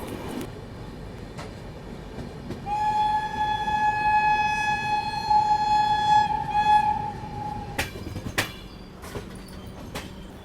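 Alappuzha–Dhanbad Express arriving at Jolarpettai station, a long steady horn blast sounding over the rolling rumble of the train, followed by a few sharp clanks.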